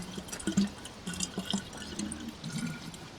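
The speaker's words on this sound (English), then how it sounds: "you need to fill the radiator with water as well." Water being poured into a car radiator in the survival video game DayZ, a soft burbling pour that rises and falls in short bursts over about three seconds, close and moderately quiet.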